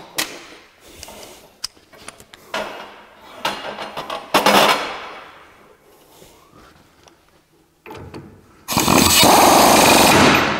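Running a new pinion nut down on a Ford F-150 8.8 rear axle during a re-gear, with loud bursts of impact-wrench rattle between tool clatter and metallic clanks, the final long burst sustained and close.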